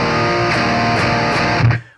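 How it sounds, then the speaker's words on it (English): Electric guitar palm mutes played through an STL Tones Meridian 31 amp sim, a loud, dense, distorted chugging that holds steady and then cuts off abruptly at the end. "if you listen to the palm mutes that I'm about to do here"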